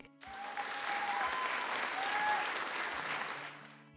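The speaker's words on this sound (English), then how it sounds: "Give yourselves a round of applause and a pat on the back." A group of children claps together in a steady burst that rises quickly, holds for a few seconds and tapers off, with faint high voices mixed into the applause.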